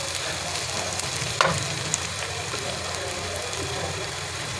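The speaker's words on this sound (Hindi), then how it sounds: "देखिए हल्का फ्राई हो चुका है प्याज। इसमें मैं अदरक लहसुन का पेस्ट शामिल करूँगी।" Onion fries in oil with ginger garlic paste, making a steady close sizzle with a couple of brief clinks from a utensil, with no voices.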